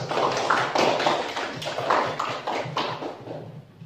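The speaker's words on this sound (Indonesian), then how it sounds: "Kita kasih aplaus untuk Ananda Echa." A class claps for a student with a burst of dense, continuous applause that is close and fairly loud and fades slightly near the end.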